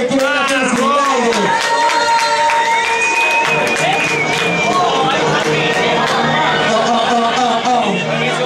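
During a 2013 freestyle rap battle, a crowd applauds and cheers for a rapper, loud continuous clapping with shouts and whistles filling the whole stretch.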